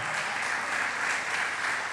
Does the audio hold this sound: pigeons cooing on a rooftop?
no